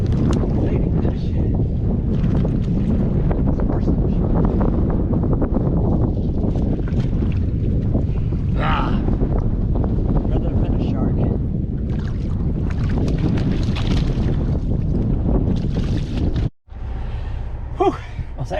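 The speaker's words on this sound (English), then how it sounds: "the wind's kicked up about 25 knots" Strong gusty wind roars and buffets the microphone steadily around a fishing boat on open water in windy weather with the wind at about 25 knots, loud and continuous with a brief dropout near the end.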